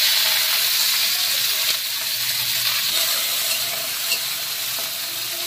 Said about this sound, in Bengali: এবার আমি পেঁয়াজগুলোকে হালকা করে ভেজে নেব।